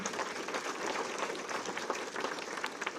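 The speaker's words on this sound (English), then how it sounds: "Let's give them a round of applause." A crowd at a Jackson County community event applauds its members, and the clapping runs thick and continuous for the full three seconds at moderate, distant volume.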